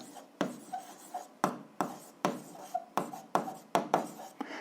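Pen strokes on paper while writing out an algebra answer by hand, a series of short scratchy bursts in quick succession, close and fairly soft, with no talking.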